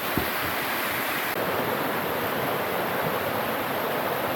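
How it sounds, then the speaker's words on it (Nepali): The large Tai Tam Mound waterfall in Hong Kong pours heavily, making a loud, close, continuous rushing roar of falling water that stays unbroken throughout, with no voices. "ल साथीहरू झर्ना बगिरहेको अवस्था।"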